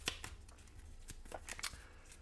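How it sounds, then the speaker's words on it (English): Cards from the solo deck of the Flashpoint: South China Sea board game being shuffled by hand, with quiet, irregular riffling clicks and soft flicks scattered through the short stretch, and no talking. "we will shuffle up the cards"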